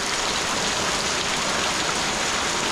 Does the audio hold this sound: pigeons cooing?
no